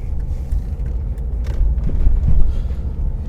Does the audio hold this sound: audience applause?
no